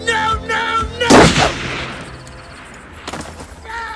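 A gun fired in a tense standoff, with a sharp broadband blast around the one-second mark that decays over half a second, between tonal voice-like sounds and a later second burst.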